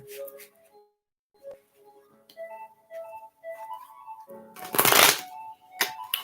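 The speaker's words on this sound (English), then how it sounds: "let me shuffle the cards good" Tarot cards being shuffled up close: soft riffles and taps, then a loud burst of rapid riffling near the end, with faint tonal background sounds between.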